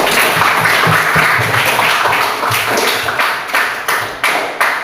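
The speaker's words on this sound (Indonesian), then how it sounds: "tepuk tangan untuk semua" A classroom audience of students applauds together once every group has finished, a dense, steady wash of many hands clapping that thins out toward the end into a few separate, louder claps.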